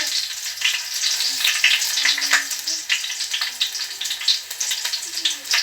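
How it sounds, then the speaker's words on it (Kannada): Crushed garlic dropped into hot oil in a pan for a fish fry, a steady bright crackling sizzle close up, with faint stirring noises and no talking. "ಇವಾಗ ಬಿಸಿ ಆಗ್ತಾ ಉಂಟು ಎಣ್ಣೆ. ಅದಕ್ಕೆ ನಾನು ಸ್ವಲ್ಪ ಬೆಳ್ಳುಳ್ಳಿ ಹಾಕ್ತಾ ಇದ್ದೀನಿ,"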